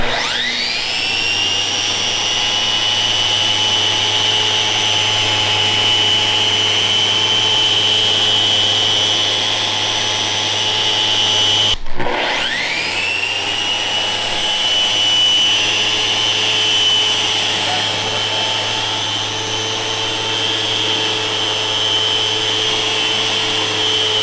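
A power sander fitted with 80 grit garnet abrasive runs loud and steady with a high whine, stops briefly about halfway, then spins back up and keeps grinding at the same level.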